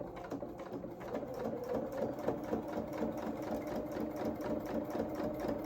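A sewing machine runs steadily, top stitching a row on a small pair of doll-sized mechanic's coveralls, a continuous close whirring hum with a fast even needle rhythm and no talk.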